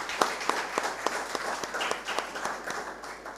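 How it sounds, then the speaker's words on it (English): Graduates, parents and guardians clapping at a songwriting summer camp certificate ceremony, a modest, fairly sparse applause with distinct individual claps standing out at a quick, uneven pace, moderately distant. "Give yourself a round of applause"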